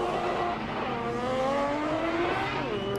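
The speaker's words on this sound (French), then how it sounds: "La BMW E46 face à la Nissan S13." A BMW E46 and a Nissan S13 drift car battle at a French Drift Championship round, engines screaming loud and continuous with rising and falling revs and a tyre squeal throughout.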